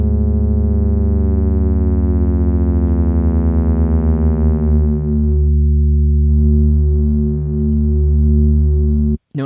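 Two slightly detuned synth tones sound together in Ableton Live, a steady buzzy drone with a slow beating wobble. It briefly thins partway through and cuts off abruptly at the end, with no talk.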